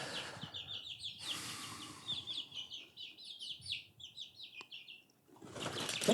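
Chickens flap their wings as one flies off a perch amid clucks and chirps from the flock, with bursts of wingbeats near the start and end and no talking.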